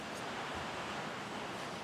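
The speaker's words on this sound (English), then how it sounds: "Boy, you could probably hear that rain in the background." Heavy rain pouring outside, heard as a faint, steady broadband roar of rainfall with no talk.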